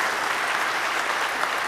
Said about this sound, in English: give a huge round of applause for this awesome talk,